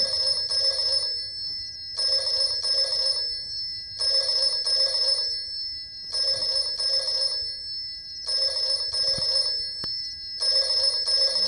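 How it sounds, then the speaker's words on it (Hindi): A telephone bell rings in repeated double bursts, about every two seconds, loud and steady with no voices. "तू टेलीफोन की घंटी बजा रहा है?"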